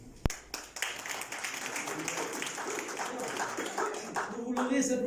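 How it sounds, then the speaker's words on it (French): Applause from an audience at a graduation ceremony for international experts, a sustained spread of clapping with a few sharp individual claps at the start, heard at moderate level throughout. "Applaudir Alseni Oumar Diallo."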